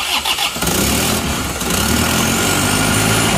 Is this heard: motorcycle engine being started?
yes